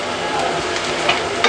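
Chopped onion frying in a little mustard oil for a light vegetable dish hisses in a close, even sizzle, with a few faint scrapes of stirring near the end. No voice is heard.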